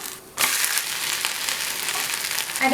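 Wheat dosa frying in oil on a pan, a steady broadband sizzle that starts abruptly after a brief quiet moment and stays loud and close with a slight swell at the end.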